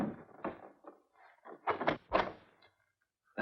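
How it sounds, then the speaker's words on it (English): A door in an old black-and-white crime film swings open or shut with a series of soft knocks, thumps and rattles that build to two louder bumps before a pause and another brief knock. "Dick, this is the door."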